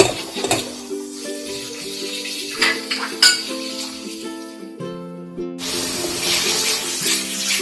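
Water poured little by little into a pan of spices frying with red chili, coriander and cumin powder, with metal utensil clinks and scraping against the pan plus a brief liquid rush, close and moderately loud.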